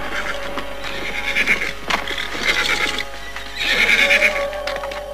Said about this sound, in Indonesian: aku mendengar beberapa ekor kuda baru saja melintas jalan ini